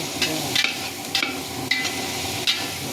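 Pakbet with pork and tomatoes is stirred in a sizzling pan, with a utensil scraping in a steady rhythm roughly every half second over constant frying noise.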